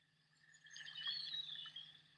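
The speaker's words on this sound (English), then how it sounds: "You got the brook with the birds and the mountains." Calm app nature soundscape of a mountain brook with birds: a soft, steady wash of flowing water under faint, high chirping birdsong, gently swelling midway and staying low and distant throughout.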